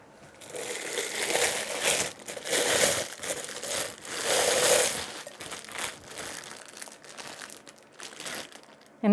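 Plastic packaging crinkles and crunches in repeated bursts as a small set of stacking pumpkin decorations is packed away, loud handling rustles alternating with brief quieter gaps.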